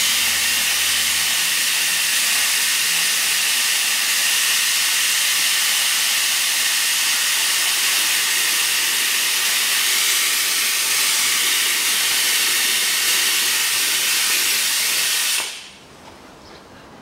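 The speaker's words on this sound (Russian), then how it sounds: "Подкачаю масло остатки." Engine oil being pumped out during a Hyundai Palisade 3.5 oil change, a steady loud hiss that holds unbroken for about fifteen seconds, then drops away abruptly to a quiet background.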